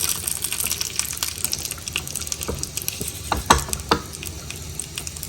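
A tempering of mustard seeds, urad dal, a pinch of asafoetida, a cut green chilli and curry leaves fries in hot oil, a constant close sizzle with crackles and a few louder spluttering pops as it is stirred.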